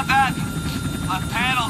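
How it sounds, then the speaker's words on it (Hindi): Helicopter cabin in the Outlast 2 horror game, a steady droning rotor and engine rumble filling the space throughout, with brief warbling tones rising over it. "अपन तो अभी हेलीकॉप्टर के अंदर है"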